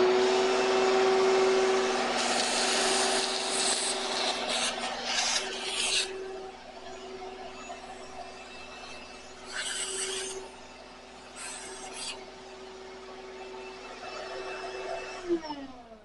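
A shop vacuum drones steadily while sucking debris out of a DeWalt 708 miter saw, its pitch shifting with bursts of rattling grit as the nozzle moves, then winding down at the end.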